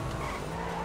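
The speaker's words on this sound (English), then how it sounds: "Okay, now I just crashed another car." A car skids in the video game GTA 5, giving a continuous, loud tire screech over engine noise. No clear crash impact stands out.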